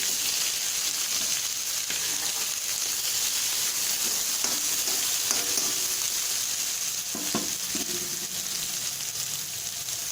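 Onions fry in hot oil with spluttered mustard seeds and fennel, giving a dense, even, close sizzle like steady rain, with a few light scrapes of stirring near the end.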